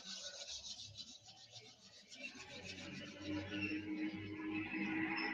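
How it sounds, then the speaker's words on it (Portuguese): Two hands rubbed briskly together to warm them, a steady close dry rasping friction that grows louder and denser over several seconds, with no talking. "Se você esfregar uma mão na outra"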